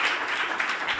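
An audience bursts into dense, continuous clapping after a performance, a steady rush of many hands throughout, fairly close and with no voices over it.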